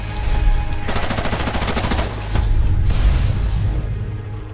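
Rapid automatic gunfire from a tactical shooter video game rattles in loud sustained bursts, with a pause and then another burst, over a low steady background rumble.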